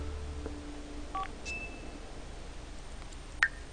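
In The Sims 4, a phone is dialed with a few short, clear beeping tones and a brief chirp over a steady background hum, with no talking.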